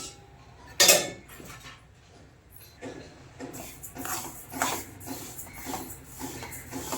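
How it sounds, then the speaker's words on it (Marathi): Sesame seeds dry roasting in a pan over a low flame, with a sharp metallic clink near the start followed by soft, irregular scraping and rustling as the seeds are stirred, close and fairly quiet. "आता आपण तीळ छान मंद आचेवर भाजून घेऊया"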